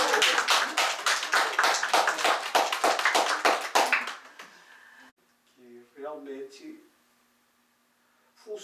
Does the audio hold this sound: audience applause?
yes